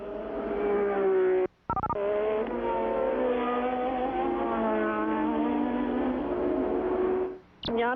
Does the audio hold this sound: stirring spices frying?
no